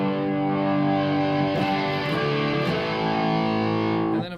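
An electric guitar is strummed through heavy distortion, playing sustained, buzzy chords with a few quick restrikes before the last chord is cut off abruptly.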